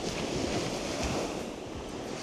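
Baltic Sea waves wash onto a wide beach on the Hel Peninsula, a continuous near roar of surf with wind buffeting the microphone.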